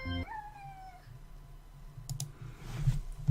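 A house cat lets out a single short, close meow at the start, followed by quieter clicking and rustling noises.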